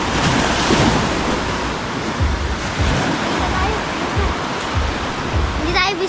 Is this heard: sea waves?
yes